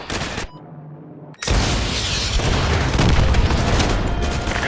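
Missile strike explosions on enemy vehicles in Call of Duty: Modern Warfare 2 campaign, a heavy roaring blast that bursts in after a brief quiet gap and rumbles on loudly with crackling debris.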